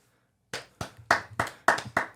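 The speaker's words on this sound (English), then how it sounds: "Oh, we got applause, don't we?" Seven sharp, evenly spaced hand claps in a small podcast studio, close and dry, starting after a brief silence with nothing else around them.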